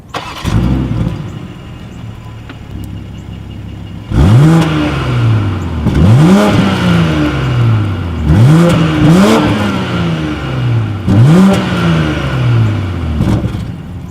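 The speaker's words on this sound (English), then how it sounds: "As always, here is that exhaust clip." A 2019 BMW X5 engine with dual exhaust idles, then revs sharply several times in quick succession, each rev rising and falling with a deep exhaust growl, close and loud.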